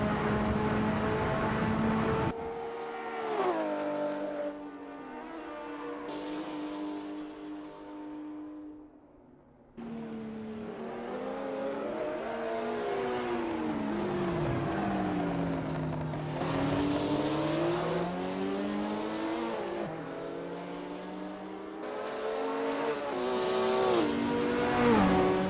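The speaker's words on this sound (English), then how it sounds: "Not Clinton Kakaten is getting to grips with the Ferrari F40 GTE in this practice session." A Ferrari F40 GTE racing at Le Mans in the Assetto Corsa sim, its engine loud and close throughout, pitch rising through the gears and falling on downshifts, with a brief lift near the middle before accelerating hard again.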